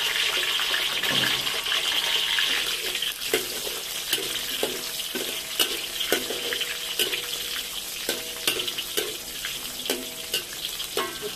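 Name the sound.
frying garlic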